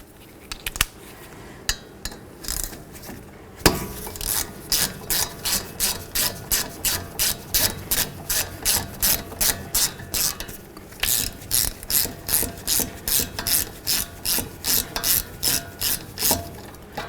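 A ratchet wrench loosening caliper bolts on the front brake of a 2009-2020 Dodge Journey, giving long runs of rapid, evenly spaced clicking strokes close up, with brief pauses between bursts.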